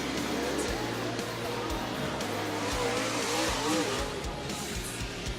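Late model race cars of the American Ethanol Late Model Tour idle and rumble in a two-wide formation at Mt. Pleasant Speedway, a steady low engine drone with occasional revs, under a faint announcer voice.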